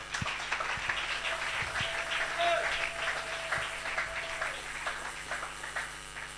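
A church congregation applauding, a sustained burst of clapping from a crowd at moderate distance, with voices heard over and around it.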